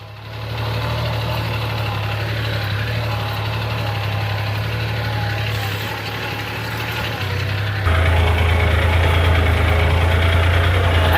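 A Mahindra Yuvraj 215 mini tractor engine runs steadily at close range, a constant low drone with a rattling mechanical texture, growing louder and heavier for the final few seconds.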